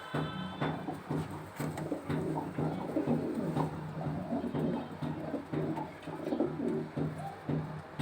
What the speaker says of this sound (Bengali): ক্লাবের কবুতর তো আমরা এখন একটু ধরে দেখা দিচ্ছি